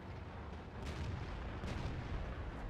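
Tank cannons firing during a World of Tanks battle, with the Borsig and VK 72.01 (K) in play: three heavy booms roughly a second apart over a constant dense roar of battle noise.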